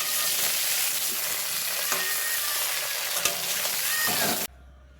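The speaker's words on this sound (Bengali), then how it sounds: "বেগুনটা হালকা করে আমি ভেজে নেব" Thick eggplant slices seasoned with salt and turmeric sizzle steadily in hot oil, a dense continuous frying hiss with a few faint pan clicks, cutting off abruptly near the end.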